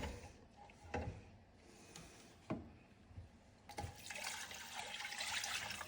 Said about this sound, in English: I'm going to add water in it.